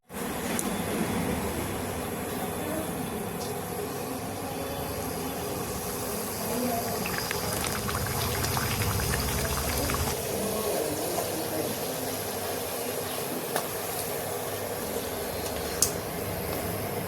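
Small rolled ajwain puris deep-frying in hot oil give a steady, soft sizzling hiss that continues throughout with no talking.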